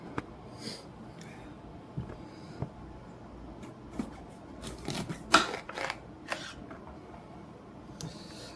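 Green peppers are cut into strips, heard as sparse, quiet knife taps and snips, irregular and close, with a small cluster of cuts in the middle.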